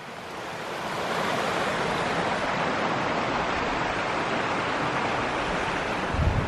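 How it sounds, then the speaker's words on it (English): Small creek beside a backcountry campsite on a hiking trail in the Ozark Highlands, a close, continuous rushing water sound that swells in after the first second and stays steady, with no talking. "We have a nice little creek over here."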